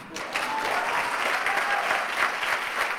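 An audience at a UK interactive leadership session breaks into sustained applause, a steady, full crowd clapping that holds at even loudness for a few seconds.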